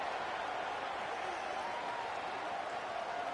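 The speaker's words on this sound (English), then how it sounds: "The crowd electric trying to help Tech on this third down" A stadium crowd at a Houston versus Texas Tech college football game roars steadily on a third down, a dense, continuous wall of distant cheering and noise with no break.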